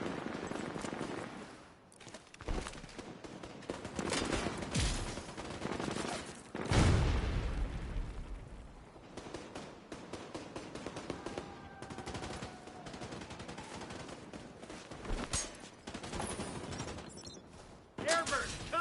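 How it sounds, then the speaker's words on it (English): Rapid bursts of automatic gunfire from a firefight in The Division 2 on PS5 crackle continuously, mixed with game effects and voices talking over the shooting. "now I'm gonna shoot back"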